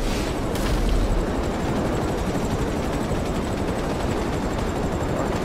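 A burning jet explodes in Grand Theft Auto, giving a sustained loud roaring, crackling blast with heavy low rumble and noisy debris that continues steadily for several seconds, with no talking.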